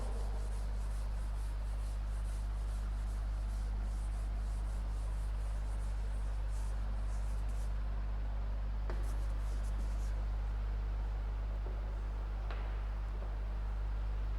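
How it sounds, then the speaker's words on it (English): A classroom board is rubbed clean with soft, scratchy wiping strokes that come and go, faint beneath a steady low hum and with no talking. "erase the board"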